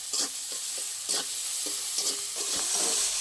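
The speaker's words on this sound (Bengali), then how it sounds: "দেবো হলুদ, সব একসাথে ভালো করে কষে নেবো।" Spices with salt, turmeric and slit green chilies sauté in a pan, a quiet, even sizzle punctuated by several soft spatula scrapes as the masala is stirred, with no talk.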